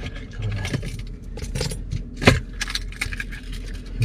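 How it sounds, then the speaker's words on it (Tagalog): A large bunch of work keys jangles and clinks near the microphone in irregular bursts, with one sharper metallic clash partway through, over a steady low rumble like a car engine. "Ang daming susi dito sa ano ko eh,"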